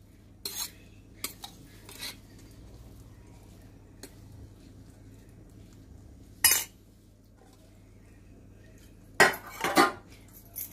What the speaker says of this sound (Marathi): त्याचप्रकारे हा चिरलेला कांदा जो आहे तो, आणि ही कोथिंबीर, हे सगळं आपण एकत्र मिक्स करून घेणार